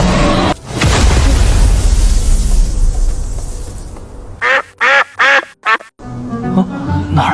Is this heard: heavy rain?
no